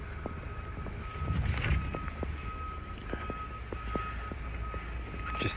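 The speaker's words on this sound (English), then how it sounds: "This vehicle also has the reversing sensors." Reversing sensor on a Skoda Octavia 1.4 TSI SE L DSG five-door gives faint, evenly repeating electronic beeps over a low background rumble.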